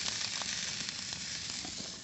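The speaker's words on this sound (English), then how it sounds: "Cooking on the Barbie. Rolled steak." Rolled steak sizzles on an outdoor barbecue grill in the evening, a dense, even hiss of searing fat heard up close for a couple of seconds, with no voices.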